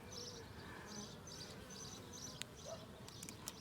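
Faint buzzing of insects around an active beehive during an inspection, a fly among the bees, with a soft wavering drone and a couple of brief sharp clicks against low background hiss.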